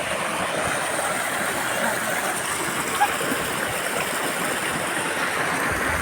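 Water from a motor-driven waterfall fountain in a park pours in a steady, unbroken rush that stays constant throughout, with faint voices underneath.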